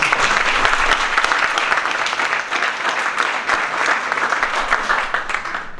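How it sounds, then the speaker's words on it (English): An audience at a Knights of the Southern Cross God & Beer event gives a sustained round of applause for Neil Angus, dense continuous clapping throughout without letting up. "can everyone give him a round of applause?"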